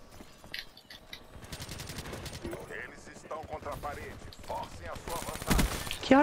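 Rapid bursts of automatic gunfire from a weapon in Call of Duty Black Ops 3, crackling in quick volleys that build louder toward the end, mixed with game sounds and voices talking over the action.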